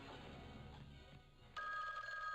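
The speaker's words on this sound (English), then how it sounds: "That phone is so fucking loud." A telephone bell rings loudly and steadily near the listener, with a sharper, brighter ring taking over partway through, no voices present.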